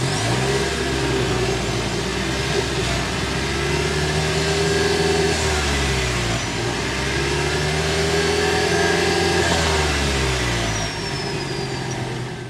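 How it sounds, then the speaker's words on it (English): Toyota Venza Limited hybrid with a dual exhaust setup running steadily close by, a smooth engine hum with gentle rises and falls in revs throughout and no talking. "Let's go inside and start it up so you can hear that exhaust."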